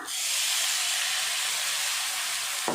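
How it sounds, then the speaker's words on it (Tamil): Water sprinkled over plantain slices frying in a pan for a Tamil-style vazhaikkai varuval, giving a steady, loud, close hiss of steam and sizzle that runs unbroken for nearly three seconds. "தண்ணி அப்படியே ஊற்றக்கூடாது, மேலால் கொஞ்சமாக தெளிச்சிக்கலாம்"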